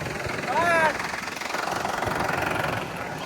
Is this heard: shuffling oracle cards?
no